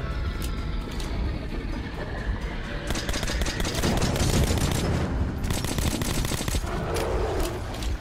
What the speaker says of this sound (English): Do I shoot them or do I shoot her?